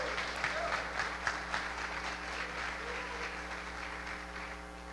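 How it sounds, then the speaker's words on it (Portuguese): A church congregation applauding during a Sunday celebration service, clapping that starts with a few sharp, distinct claps and then settles into a softer, continuous patter over a low steady hum, fading slightly toward the end. "pode aplaudir o Senhor"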